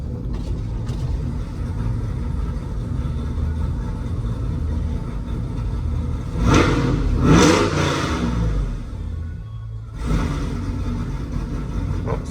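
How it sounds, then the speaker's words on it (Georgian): A car engine being tuned idles with a steady, fairly loud mechanical drone, then revs up sharply in a surge around the middle and gives one shorter blip near the end before settling back. "იმას გავასწორებ ნამდვილად რომ დაატრიელებ ძრავს ბრუნი დაიჭიროს და არ ჩავიდეს დაბლა."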